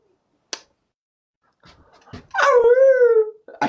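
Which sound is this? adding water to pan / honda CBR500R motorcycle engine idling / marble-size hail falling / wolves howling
wolves howling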